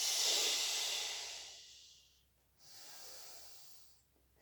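A Pilates instructor exhaling forcefully during a floor exercise: a long, loud breathy rush of air that fades out, then a second, softer exhale, close to the microphone with no talking.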